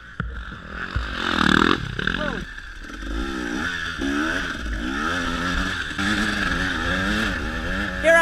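A vehicle engine strains and revs in fourth gear while stuck in snow during a winter scramble race, a rising and wavering drone with bursts of throttle, close and loud, with faint voice-like sounds mixed in.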